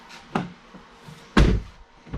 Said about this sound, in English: Door opens and closes alright.